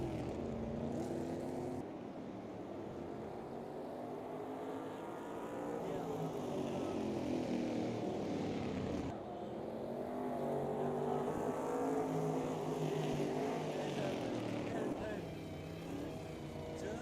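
Corvette race car engines with big exhaust pipes in a racing video game: a continuous loud, rumbling engine roar with shifting pitch as cars rev and pass, under ongoing talk.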